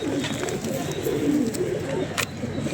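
Low, rolling coos from a small group of chappar pigeons kept for pigeon flying overlap in a continuous warbling murmur, close and fairly loud, with a faint voice in the background.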